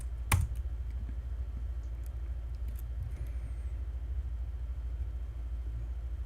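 Someone types on a computer keyboard. One sharp click is followed by a few faint taps over a steady low rumble and hum in the room.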